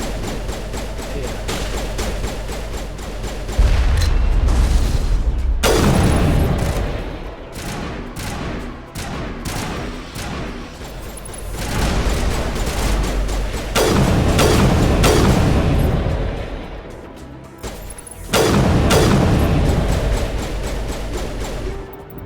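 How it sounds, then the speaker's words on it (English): Artillery barrages in the Mass Effect game crash in heavy, booming bursts, with several loud waves of explosions and crackling debris separated by brief quieter gaps. "We must find a way to disable their artillery."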